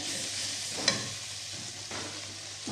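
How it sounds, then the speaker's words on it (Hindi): Garlic sizzles steadily in a pan, a continuous close frying hiss with brief scraping stir sounds cutting in twice. "लहसुन को हमेशा अच्छे से फ्राई किया करें"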